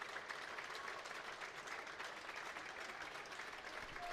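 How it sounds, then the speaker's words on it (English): A crowd at a women's rugby match between Exeter Chiefs and Worcester Warriors claps steadily as players leave the field; the applause is distant and fairly quiet, spread evenly through the whole stretch with no talk. "And a warm round of applause from the crowd."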